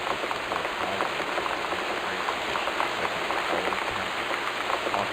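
Heavy rain in the video game Gone Home, a dense, steady patter and hiss of drops on surfaces, continuous and close with no voices.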